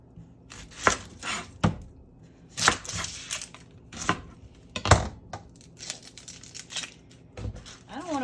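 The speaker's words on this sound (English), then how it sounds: "I don't want to put a whole bunch of onion in here because, well, I can cut it small." An onion being chopped with a knife on a cutting board while a cast iron chicken dish is prepared: irregular close, sharp knocks, about a dozen over several seconds, with no talk.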